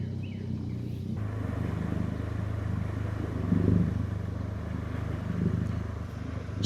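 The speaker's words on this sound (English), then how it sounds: "Here comes a boat." A motor boat passes on a blackwater river, heard from a kayak. Its engine is a steady, distant drone that swells slightly as it goes by.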